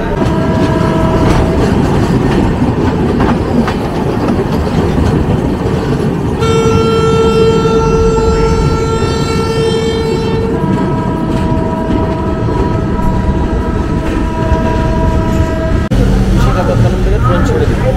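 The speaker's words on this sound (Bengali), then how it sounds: "বিশাখাপত্তনম থেকে ট্রেন ছেড়ে দিই" Train 15629 pulls out of Visakhapatnam with a loud, close rumble of cars and clacking wheels, and sustained horn blasts sounding over it midway and near the end.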